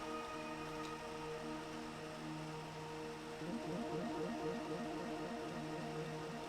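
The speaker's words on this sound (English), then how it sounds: "So all of these atmosphere layers together sound like this." Several layered synth atmosphere pads stacked into a wide sustained wash of tones, steady and soft, with a gentle rippling pulse entering partway through.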